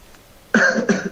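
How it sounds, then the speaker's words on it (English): Two quick, forceful coughs close to the microphone, following a brief quiet moment. "this is cough"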